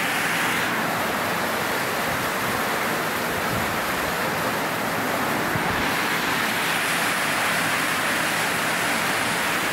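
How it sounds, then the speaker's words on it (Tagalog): Steady, dense roar of heavy rain pouring down close by, unbroken and loud throughout with no voices. "Super lakas ng ulan."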